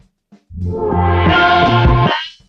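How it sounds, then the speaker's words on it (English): One guitar note rings out, swelling quickly and sustaining with a bright, buzzy tone before fading after about two seconds. "if Jimmy plays a note, it might sound like this"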